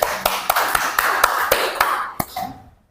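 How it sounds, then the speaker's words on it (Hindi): A church congregation claps together in a steady, brisk rhythm of sharp, close beats, roughly four a second, before the clapping slows and dies away into quiet. "ताली मारो।"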